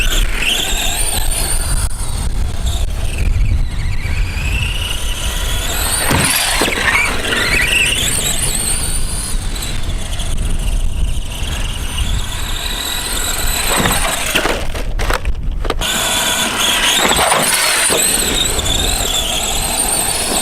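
An ARRMA Granite 4x4 monster truck with a brand-new brushed motor, running on a 2S LiPo: a continuous high whine rising and falling in pitch as the throttle changes, close and loud throughout, with no talk.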